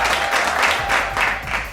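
An audience cheers and applauds in a steady, dense wash of clapping and crowd noise that swells in waves across the whole short stretch, with no talking over it.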